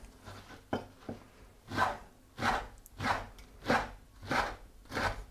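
Six or seven evenly spaced knife strokes dicing bread into cubes on a board, crisp, close and alone, each chop landing at a steady rhythm.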